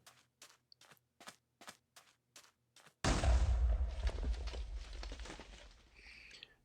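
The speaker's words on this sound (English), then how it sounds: "They're very large explosions," Large snowball explosion in a video game, erupting as one loud, deep, rumbling blast that decays slowly, preceded by a quick series of sharp clicking ticks.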